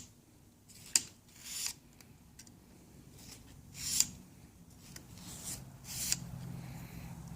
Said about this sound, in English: put the sandpaper in there, slide it out